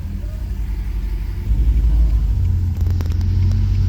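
Straight-piped Chevrolet Caprice PPV V8, running slightly rich, catches with a jump in low rumble and settles into a loud, deep idle close by.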